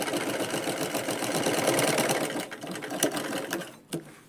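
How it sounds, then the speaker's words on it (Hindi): A sewing machine stitching a lined four-tuck belt blouse runs in a steady fast whirring rattle for over two seconds, then slows into a few separate bursts and stops, close and loud with no talk. "फिर हम नीचे से इसको सिलेंगे पूरा"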